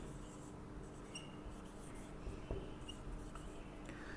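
Marker or chalk writing a word on a classroom board, faint squeaky strokes scattered over a steady low room hum, with no voices.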